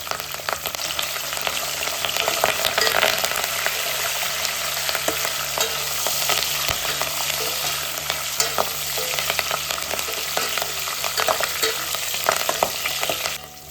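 Garlic cloves, dried red chillies and a cupful of fresh curry leaves fry in hot oil for biryani, a loud, dense, continuous sizzle with stirring close by.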